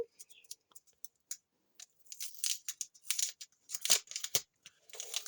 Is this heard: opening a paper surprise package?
yes